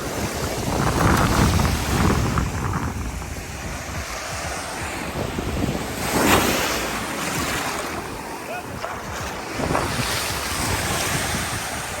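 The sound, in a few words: wind at the ocean shore in Oahu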